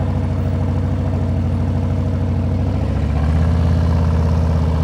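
Engine of a 2023 Harley Davidson Breakout motorcycle running at slow speed, a loud steady low rumble with a throbbing pulse that deepens slightly near the end, heard close and alone.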